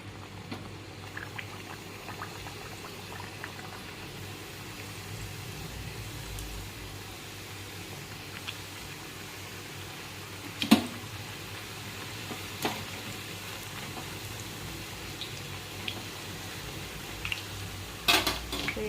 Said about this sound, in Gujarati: પૂરીને સરસ તળી લેવાની છે, ક્રિસ્પી થાય ત્યાં સુધી